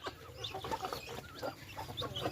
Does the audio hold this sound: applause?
no